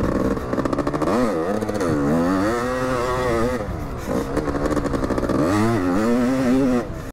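Close and loud, a 1992 Kawasaki KX-E 250 two-stroke enduro motorcycle engine howls and revs repeatedly, its pitch rising and dropping as the throttle opens and closes.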